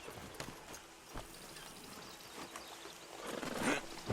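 Hooves clip-clop in a few scattered steps, then a horse whinnies loudly near the end, close by, in the video game Red Dead Redemption 2.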